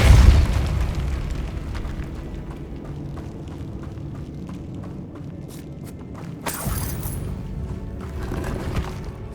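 Incendio and Repulso spells fire in Hogwarts Legacy, opening with a deep booming blast that rumbles and fades, followed by a brighter burst of magical crackle partway through.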